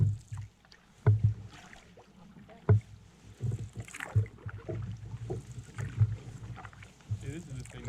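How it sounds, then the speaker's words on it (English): A canoe paddled slowly through rocky water on an autumn Algonquin trip, with soft paddle strokes and low water sloshing, a few sharper knocks against the hull, and people talking quietly nearby. "Just paddle slowly, so if we do smack into a rock, we don't pop a hole."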